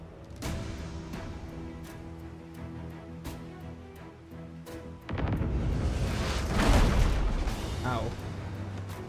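In the Abandon Ship video game, a ship's cannon fires with repeated booms, followed by a heavy, rumbling barrage that starts partway through. Talk carries on over the din.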